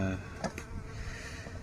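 Steady buzzing of many honeybees at an opened hive in an apiary, a dense continuous drone filling the background with no talking.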